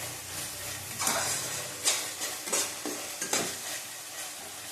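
Spice paste being stir-fried in a pan for Bengali katla fish curry: a close, steady sizzle broken by several distinct scraping stirs of the spatula, with no voices.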